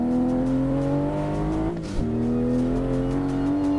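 A racing car engine in the simulator game Assetto Corsa holds a steady, loud drone with rising pitch, dips briefly near the two-second mark as if shifting, then climbs again.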